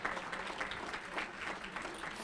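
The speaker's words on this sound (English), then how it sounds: "Give them a hand clap." Steady applause from an audience at a junior national football awards ceremony, a dense continuous clapping that holds evenly throughout.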